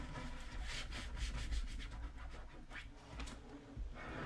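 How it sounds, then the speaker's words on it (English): Close rubbing and scraping strokes as vinyl transfer tape is burnished firmly, quick repeated passes with a soft scratchy texture, quiet and without talk. "let's go ahead and burnish it really, really well"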